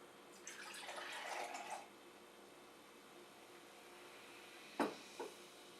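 Ginger ale is poured into a cup, a soft fizzing splash lasting just over a second, followed after a pause by two faint clinks or taps.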